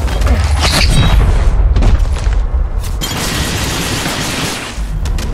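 Weapon fire in Apex Legends Mobile: loud, close bursts of rapid gunshots and booming impacts over a dense battle din, with a brief lull midway before the firing resumes.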